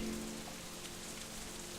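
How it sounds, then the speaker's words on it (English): Rain falls into puddles in the visual novel game Katawa Shoujo, a faint, even patter of raindrops with a brief low tone fading at the start. "Is puddles and raindrops, or raindrops and puddles."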